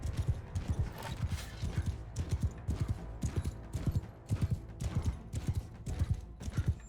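Cavalry horses in Mount & Blade II: Bannerlord, a rapid, continuous clatter of many hooves at a steady gallop, moderately loud with no talk over it.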